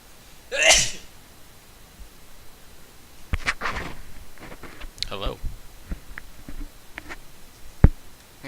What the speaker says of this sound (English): Hold on, I'm gonna sneeze.